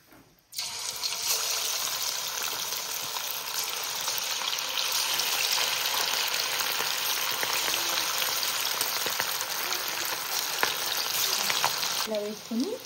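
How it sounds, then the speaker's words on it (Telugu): Chicken kebab pieces dropped into hot oil burst into a loud, steady sizzle and crackle that continues close by for over ten seconds, with no talk. "మనం ముందుగా కలుపుకున్న కబాబ్ ముక్కలను ఇలా ఆయిల్లో వేసుకుందాం."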